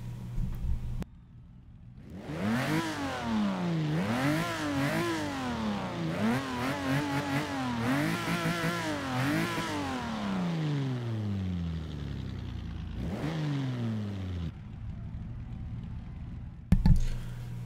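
A 1954 Jaguar D-Type racing car engine in the video game Forza 6 revs up and down repeatedly, rising and falling in pitch through gear changes, then fades before a brief final burst.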